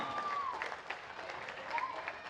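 A crowd applauds the race winners at a Petronas Sprinta Pro-Am Cup motorcycle race during the 2022 Cub Prix. The applause is faint and distant, a soft, continuous patter throughout the short stretch.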